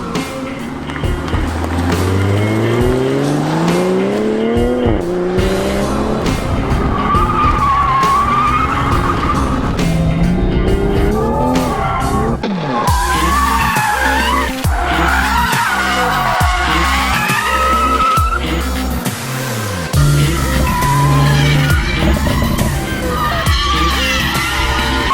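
A 2020 Toyota Supra driven hard, the engine revving up and down through gears, loud and close, with tires squealing and skidding through corners and no talking.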